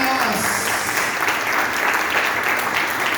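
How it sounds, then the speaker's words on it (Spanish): A church congregation bursts into loud, sustained applause during a worship service, dense clapping filling the room with voices mixed in. "te damos un aplauso glorioso a ti que vives"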